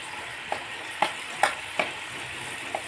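Snack pieces are dropped into hot oil one after another, each landing with a soft splashy plop, five in all, over a low, steady frying sizzle, with no voices.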